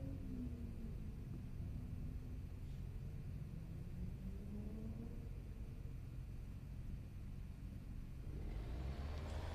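Number 9 Corvette racing at Daytona, its engine a steady distant rumble with faint rising revs and a louder swell near the end, heard alone without talk.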